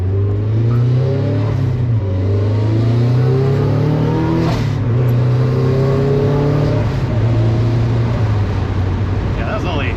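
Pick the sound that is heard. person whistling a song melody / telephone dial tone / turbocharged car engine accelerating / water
turbocharged car engine accelerating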